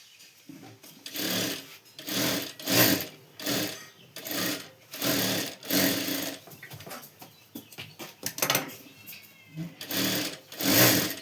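Sewing machine stitching the katori cup pieces of a blouse, with a double row of stitches: repeated bursts of fast mechanical whirring, each lasting about a second, separated by short pauses, close and fairly loud.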